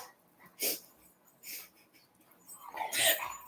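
Small dog whimpering and snuffling in short breathy bursts, with a louder whiny burst near the end, heard close up indoors during a meal with no talk.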